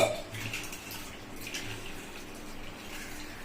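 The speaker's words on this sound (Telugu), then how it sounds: "అదే చింతపండులో" Water poured from a vessel into soaked tamarind for a fish curry, a soft continuous splashing trickle after a brief knock at the start, close and fairly quiet.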